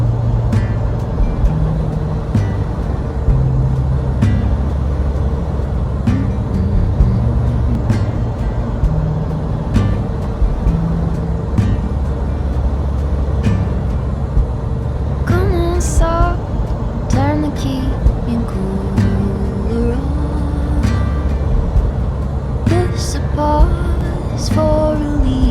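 Semi truck cruising on the road, a constant loud engine drone and road rumble with shifting tones, plus occasional clicks and rattles inside the cab and brief talk.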